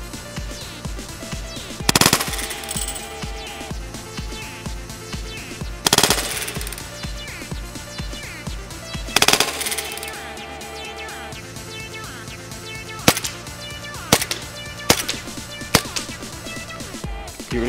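An airsoft gas pistol fires a series of sharp, loud close shots, a few spaced bursts early on and then quicker single cracks, with faint mechanical handling between them and no speech.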